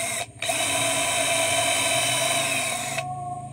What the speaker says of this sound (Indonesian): sebelumnya lubangi dulu menggunakan mata bor ukuran 5 ini ya